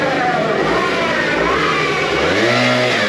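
A Gilera Runner scooter, recently derestricted, pulls away and accelerates hard, its engine note rising steadily in pitch over a loud, continuous roar close to the rider.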